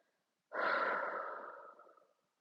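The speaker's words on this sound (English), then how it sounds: "and a long breath out." A long, steady exhale during a guided breathing exercise in a yoga session, close and soft, starting abruptly and tapering off over about a second and a half, with no talking.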